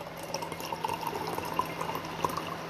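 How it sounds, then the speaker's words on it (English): Lavender lemon tea trickles and splashes into a cup in a quiet, steady stream with occasional small drips, heard close up and alone. "So I'm going to go ahead and pour some more out."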